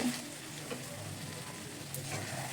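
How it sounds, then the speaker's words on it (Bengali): Pre-fried potato and cauliflower tipped into sizzling masala in a pan, a soft steady sizzle with a few light clatters and stirring sounds, fairly quiet throughout. "এবারে এর মধ্যে আগে থেকে ভেজে রাখা আলু এবং ফুলকপিটা দিয়ে দেব"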